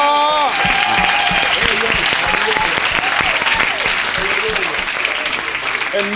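Applause from a church congregation fills the space for several seconds, loud and continuous, with a voice speaking over it throughout.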